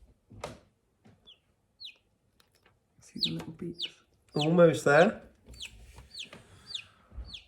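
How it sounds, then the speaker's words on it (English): Newly hatched chicks peep inside a home incubator in a front room, giving repeated short, high chirps close by, while someone talks quietly in between. "Can you hear the chicks?"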